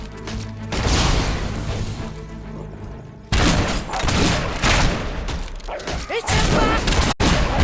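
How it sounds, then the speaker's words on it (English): Loud, dense bursts of gunfire and booming blasts from the video game Fable III. The barrage is nearly continuous, with one abrupt cut partway through and a brief shout over the din. "Scumbag's shooting at us!"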